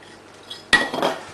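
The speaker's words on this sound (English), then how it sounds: "Again, give that a stir" A steak and ale pie filling made with beer and seasoned with pepper is stirred in a pot. There is a faint scrape at first, then a sudden loud clatter of a metal utensil knocking and scraping against the pot.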